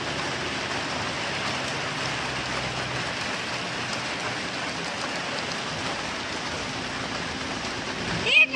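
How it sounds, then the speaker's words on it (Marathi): Steady hiss of rain falling at a village fair in Kharsundi, a dense continuous wash with no other sound standing out, ending in a brief louder rustle. "बघा आता पाऊस यायला लागला इथं आमच्या इथं"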